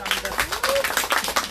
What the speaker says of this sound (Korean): 다시 한 번 더 우리 가천의 배은무 거사님께 큰 박수 부탁드리겠습니다